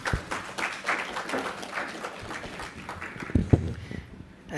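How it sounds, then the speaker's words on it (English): Applause from the audience after a panel at an MOU signing event, moderate and somewhat uneven, with a couple of louder claps near the end and faint voices mixed in. "A round of applause once again for our panel."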